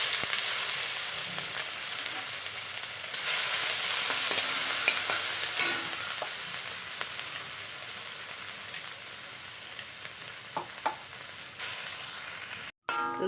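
Pork fries with crushed ginger and garlic in a pan, a dense continuous sizzle rising and easing as a spoon scrapes and stirs, with a few sharper knocks near the end; close and even.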